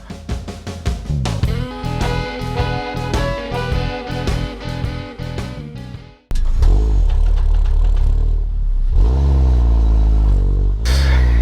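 An Audi TT Coupe sports car engine with a six-speed gearbox revs and accelerates hard, loud and close, with a rising roar after a brief pause, over music-like tonal sounds at first.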